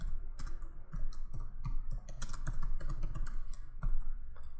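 Rapid, steady typing on a computer keyboard while entering database data, with dense clattering keystrokes running throughout at close range, fairly loud and without talk.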